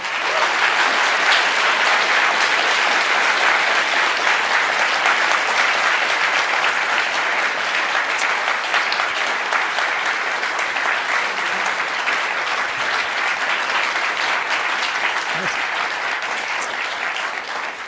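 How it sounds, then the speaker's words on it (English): Audience at a free speech event gives a long, steady round of applause, loud and sustained throughout with no pause. "how about give these guys a round of applause?"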